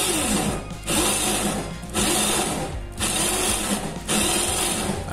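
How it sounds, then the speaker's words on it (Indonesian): A power drill with a 55 mm bit whirs steadily, pausing briefly about once per second before spinning up again, close and loud with no talking. "Sekarang kita tinggal bor aja menggunakan mata bor 55 mm ya."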